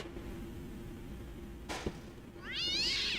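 A black cat in a video game gives a single clear meow near the end, preceded by a soft thud over a low ambient background.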